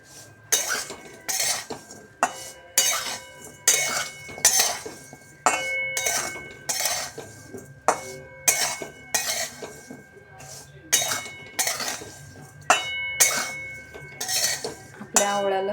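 A spoon clinks repeatedly against a bowl while gooseberries are mixed with Kashmiri red chilli powder and black salt, in a steady rhythm of sharp metallic taps and scrapes, close and clear.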